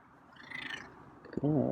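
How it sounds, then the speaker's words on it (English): A feral cat makes faint, low sounds that swell and fade, followed by a short, clear, tonal meow-like call at close range. "I think I heard a purr there"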